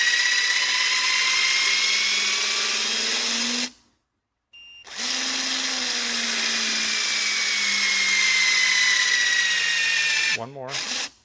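A HYTORC torque gun works a Porsche centerlock wheel nut, a loud close whirring drone that stops for about a second, restarts steadily, then ends with a brief warbling wind-down.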